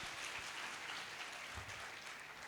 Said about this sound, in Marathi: जोरदार टाळ्या आपण तिच्यासाठी देऊया